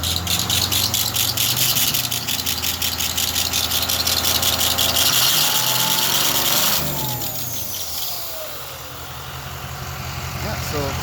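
A 6.0L Powerstroke diesel engine runs on a test stand, a steady loud rumble with rhythmic clatter and a squeaky belt, dropping in pitch as it winds down near the end. People talk over it.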